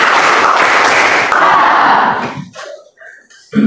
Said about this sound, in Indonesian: Sebelah kanan, sebelah kiri, tepuk tangan.